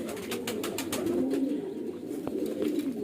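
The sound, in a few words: Sheetla high-flyer baby pigeons cooing while eating grain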